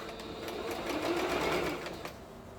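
A sewing machine stitches fabric for an Iro and Buba outfit, a soft steady whirring run of rapid stitches that swells slightly in the middle and then eases off, fairly quiet.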